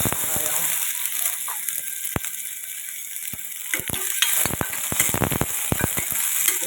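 Chopped onions sautéing in hot oil for an apple chutney, a steady bright sizzle close by with stirring scrapes and clicks of a utensil against the pan.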